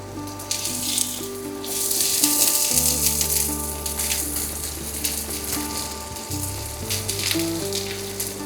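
Onion and garlic frying in oil for a Bengali mutton kosha curry, a steady loud sizzle with crackling throughout, alongside a low continuous hum and occasional stirring rattles.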